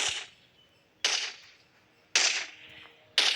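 Four sharp gunshots ring out at roughly one-second intervals in the video game Indian Bike Driving 3D, each a crisp crack with a short decaying tail and no talking between them.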